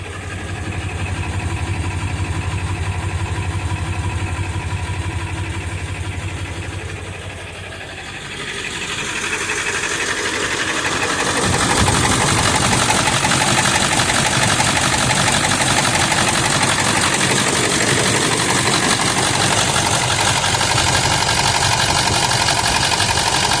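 A 1999 Ford F350 with a 7.3 turbo diesel engine idling, a loud steady clattering rumble close by that grows denser and harsher partway through, then holds constant for the remainder.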